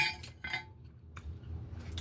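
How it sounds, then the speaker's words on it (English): Dishes being washed: a few sharp clinks of pots and cutlery, separated by short pauses, fairly close and moderately quiet with no talking. "I ain't supposed to be washing no dishes, but I'm washing them."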